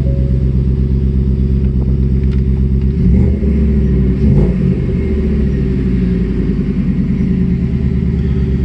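Deep, continuous idle rumble from a lowered 2020 Ford F150 5.0 V8 with an FCP Earthquake exhaust, heard from inside the cab with the windows down, loud and steady with a slight swell midway.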